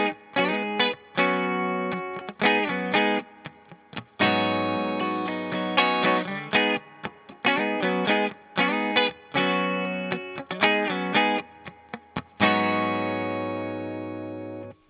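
Layered, distorted electric guitars play a harmony line in chopped phrases with sustained chords, bright and effects-heavy, no voices.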